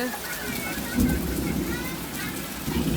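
Rain falls steadily after a long hot spell, a constant close patter on surfaces, while a pigeon coos softly in the background.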